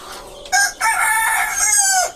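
A rooster crows loudly and close by on a small laying-hen farm, one long drawn-out call after a short cluck, with no voices.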